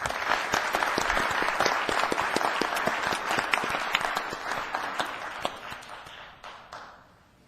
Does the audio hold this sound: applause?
yes